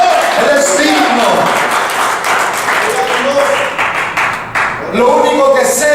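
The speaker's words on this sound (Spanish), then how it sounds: "Denle ese aplauso a Dios en esta mañana" Church congregation clapping in praise during a Sunday morning service, a dense wash of applause alongside a preacher's raised voice and cheering that continues throughout.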